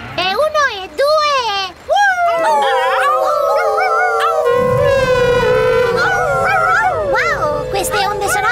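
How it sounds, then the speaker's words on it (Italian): Several cartoon dogs howl together in long, wavering, overlapping cries, loud and close, with a few yips and barks at the start. "È ora di ululare!"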